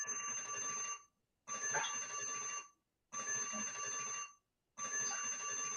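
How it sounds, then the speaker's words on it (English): An alarm clock ringing in bursts of about a second each, four loud electronic rings separated by short silences, with no voices over it. "I know I hear the alarm."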